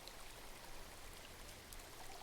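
A fresh water stream flows in the Metaphor: ReFantazio video game, a faint steady trickling and babbling with occasional light drips and no voices.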